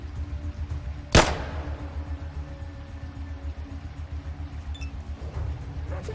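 A single gunshot rings out in the turn-based game Atom RPG, a sharp loud crack early on, followed by a low ambient hum and faint clinks.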